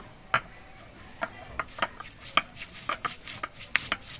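Spices are ground together into a paste, giving a quiet, uneven series of sharp scraping and knocking strokes with short gaps between them and no talking.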